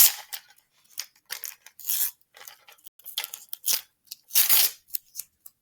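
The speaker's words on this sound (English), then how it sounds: "So it says to remove the masking tape from the spring scale." Masking tape is peeled in short bursts off a spring scale in a classroom lab, giving a series of close, sharp ripping and crackling pulls separated by brief silences.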